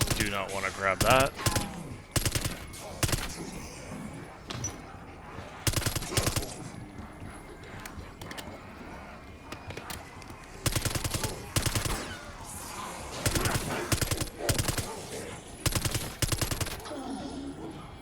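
An SMG in Call of Duty fires repeated rapid bursts, sharp and loud, separated by short pauses over about eighteen seconds, with a voice faintly present in places.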